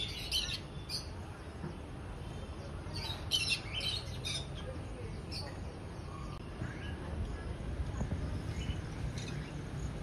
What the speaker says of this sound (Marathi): आणि खूप पक्षी आहेत आतमध्ये